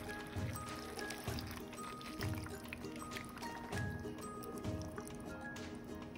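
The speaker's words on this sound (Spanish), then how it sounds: "Agregamos la salsa." Chili sauce made from ground chiles is poured over chicken and bacon, giving soft wet squishing and dripping sounds at a low level, with faint kitchen background.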